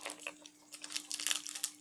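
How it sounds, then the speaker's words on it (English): Thin plastic wrapping around a Kinder egg crinkles and crackles as it is pulled open, a quiet, close run of irregular rustles that grows busier toward the end, with a steady low hum underneath. "Take it out of the packaging."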